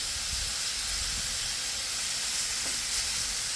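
Shredded steak meat sizzles on a Blackstone griddle for a grilled cheesesteak, a loud, steady hiss of frying close by with faint scraping underneath.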